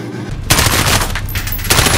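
Video game gunfire comes as a loud, dense burst of rapid automatic shots, continuous and close, lasting for most of the moment.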